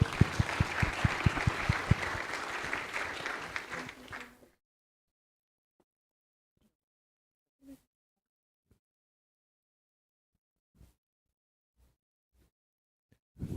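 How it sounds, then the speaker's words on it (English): An audience at a seminar session gives a steady round of applause that stops abruptly after about four seconds, followed by near silence broken only by a few faint, scattered knocks and shuffles. "Please give a warm round of applause for Mr. Richard Mayopu."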